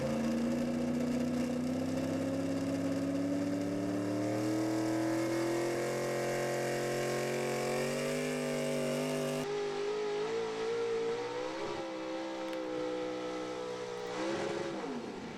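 A pulling truck's engine on the Appalachian Outlaws Pulling Series circuit, at a truck and tractor pull in Cookport, roars in a loud sustained rev that climbs steadily in pitch, then wavers and strains as something breaks underneath.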